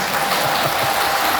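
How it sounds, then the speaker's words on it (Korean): A parish audience at a Catholic retreat claps loudly and evenly for the standing parish council president, a short, dense burst of applause with no talking over it. "박수 한번 쳐주세요."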